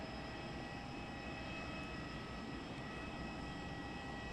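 An ATR turboprop engine running at an airport, a steady loud droning roar with a constant whine that holds evenly throughout, no talk.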